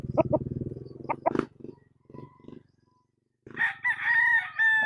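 A 9-month-old Roundhead gamecock stag, bred from a Golden Boy sweater, crows once near the end, loud and close, after a stretch of scattered softer sounds and a brief quiet gap.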